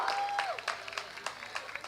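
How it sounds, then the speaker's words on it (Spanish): Audience applause after a singer's performance at a guarania music event, scattered claps rising from a modest crowd, opened by a short sustained tone that fades out. "Fuerte el aplauso para Lucero Sarambí, capísima."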